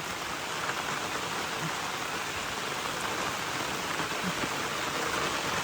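Heavy monsoon rain pours steadily over a cashew orchard in Konkan, a dense, continuous hiss of drops on leaves and ground, loud and unbroken throughout.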